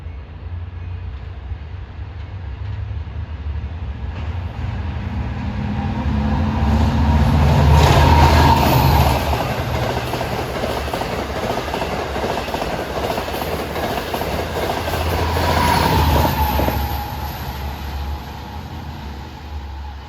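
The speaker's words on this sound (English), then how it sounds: "At 6:58, train 508 from Jamaica to Oyster Bay is arriving at Mineola" A Long Island Rail Road commuter train from Jamaica to Oyster Bay arriving at Mineola station on a triple-track line during the morning rush, its steady rumble and wheel clatter swelling as it passes close by, with a high horn-like tone near the end.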